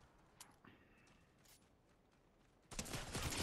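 Gunfire erupts in the Fortnite battle royale game, a dense burst of rapid shots arriving loud near the end after a quieter stretch with faint scattered effects.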